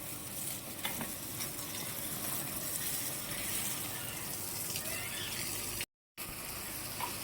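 Water pours steadily into a goat's water container outdoors, a continuous close gushing splash that runs almost unbroken, with a brief gap near the end.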